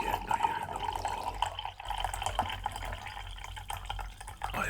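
Tea poured into a cup beside an old two-person infrared sauna makes a soft, steady trickle of liquid, quiet and close, with faint splashing and no voices.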